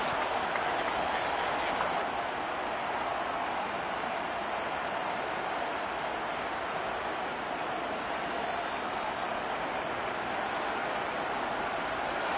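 A football stadium crowd roars steadily in a dense, broad wash of cheering and applause ahead of a big third down late in the fourth quarter, sustained without letup for about twelve seconds.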